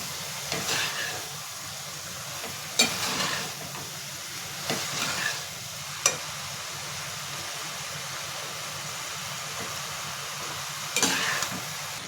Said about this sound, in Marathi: ह्याच्यामध्ये जे तांदूळ आपण शिजून घेतलेले आहेत भात ते आपण ह्याच्यात टाकून मिक्स करून घ्यायचे